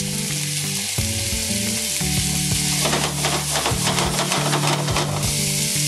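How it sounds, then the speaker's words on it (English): Half a cup of white wine poured into a hot pan of chicken, mushrooms and eggplant sets off a loud, close sizzle that swells and crackles for several seconds over a steady background tone. "Now I'm going to hit it with about a half a cup of white wine"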